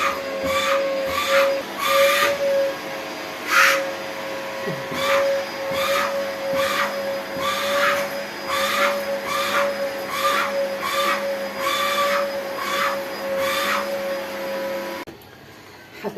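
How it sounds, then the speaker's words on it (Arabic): A household vacuum cleaner runs steadily nearby with a constant whine, punctuated by regular bursts of suction noise, then cuts off near the end; no one speaks. "معلش عشان ده صوت المكنسه، بنتي بتكنس."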